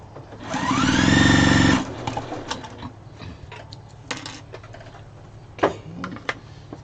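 Close, loud burst of machine stitching as a scrap piece is sewn onto pieced yardage, a steady whirring run lasting just over a second, followed by quieter fabric handling and clicks.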